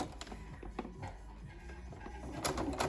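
A sewing machine stitches through pinned, pleated layers of fabric for a face mask, giving a steady run of close, soft mechanical clatter with small clicks and uneven bursts as the seam is sewn slowly.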